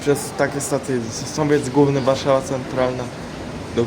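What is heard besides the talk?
None of the usual background noises is heard.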